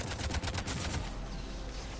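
Turret gunfire in Mass Effect 3 Legendary Edition rattles in rapid, dense bursts. The loud, continuous fusillade runs for the whole stretch.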